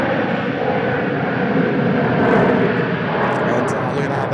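A China Southern Airbus A321 airliner arriving at Seoul Incheon airport gives a steady, broad engine roar at moderate distance, holding level for several seconds and swelling slightly midway.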